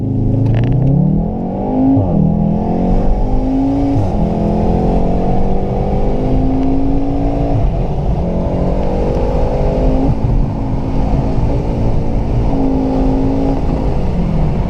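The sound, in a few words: Volkswagen Golf R car driving and accelerating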